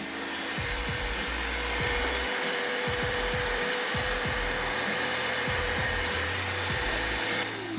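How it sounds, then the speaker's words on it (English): A shop vac runs loudly and continuously, vacuuming pine needles from behind a Porsche 996 bumper, its steady whine broken by repeated thumps and bumps as the nozzle moves around. "So I've just got simple shop vac."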